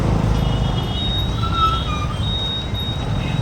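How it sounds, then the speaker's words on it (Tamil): Busy morning road traffic roars in a steady, close rumble of passing vehicles, with a few brief high tonal notes like distant horns rising briefly over the din. "சரியான டிராஃபிக் காலையில் மக்களே"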